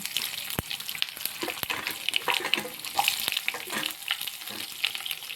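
Ingredients for tomato pappu fry in a pan with a busy, crackling sizzle and some stirring scrapes, with a few sharp clicks along the way and no talking.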